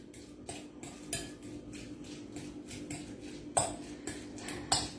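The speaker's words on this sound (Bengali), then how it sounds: "আমরা এই ধরনের ফর্ক ইউজ করব, খুব তাড়াতাড়ি এটাকে আমরা নাড়াতে পারবো" Metal fork clinking and scraping against a bowl while stirring a sugar lace mixture, scattered light taps with a few sharper rings, close and quiet, no voices.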